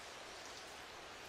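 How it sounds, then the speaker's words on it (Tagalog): Steady, dense hiss of rain pattering on a roof overhead, even and continuous with no voices. "naririnig ko yung tunog ng ulan ng pagpatak sa bubong."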